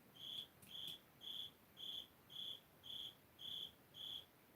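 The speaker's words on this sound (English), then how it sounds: "That cricket's still here." A cricket in a basement chirps in a steady rhythm, eight evenly spaced trills over about four seconds, faint and alone in a quiet room.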